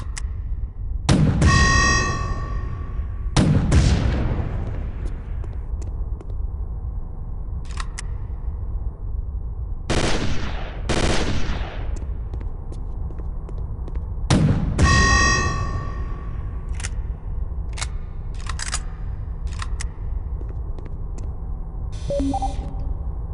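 Weapon fire in Chaser, a 2003 shooter, tried in two firing modes on a training range: loud single blasts with long decaying tails, some ringing with a metallic tone, spaced across the stretch with quieter clicks between.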